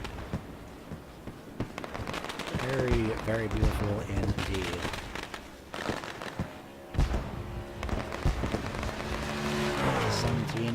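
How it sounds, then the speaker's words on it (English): Fireworks crackle and pop at the finish of a video-game truck series race at Gateway, bursting repeatedly over engine roar and crowd-like noise while a commentator talks over it. "As the fireworks go off"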